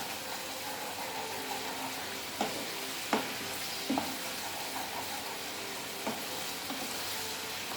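Pointed gourd and onions stirred in hot oil in a pan, a steady low sizzle broken by several soft spoon clinks and scrapes at irregular intervals, close and moderately quiet.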